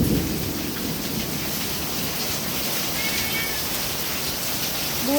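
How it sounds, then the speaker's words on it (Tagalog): Heavy rain pouring down in a steady, dense roar, with faint thunder rumbling beneath and a brief cat meow near the end. "grabe ng lakas ng ulan"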